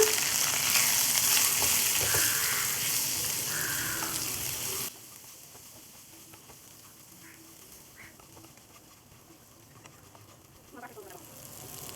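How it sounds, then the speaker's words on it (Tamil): Mutton kheema sautéed with cashews, turmeric and salt sizzles steadily in a pan, louder for the first few seconds and then quieter, with a faint stirring scrape. "முந்திரி பருப்பு, மஞ்சள் தூள், உப்பு சேர்த்து இப்போ நல்லா வதக்கிக்கோங்க."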